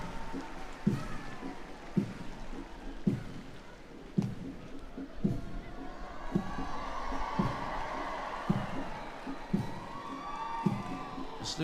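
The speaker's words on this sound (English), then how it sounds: "Please give them a big round of applause." A large crowd at an independence anniversary parade cheers for the marching color parties, sending a sustained roar swelling mid-way over regular, evenly spaced drum-like thumps.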